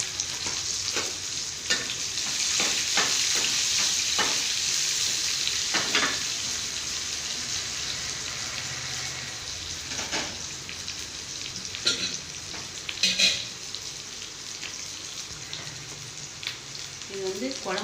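Small onions frying in a pan for a home-cooked lunch, a dense continuous sizzle broken by repeated scraping stirs and taps of the utensil, close and fairly loud.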